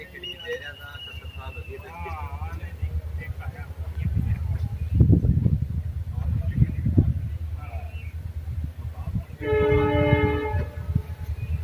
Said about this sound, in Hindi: ट्रेन ने सीटी दे दी है और चल दी है ट्रेन अपने नेक्स्ट स्टेशन की ओर।